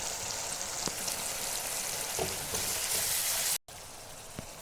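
Spices fry in a pan for gondhoraj fish curry, giving a steady, close hiss of sizzling oil with a brief dropout near the end.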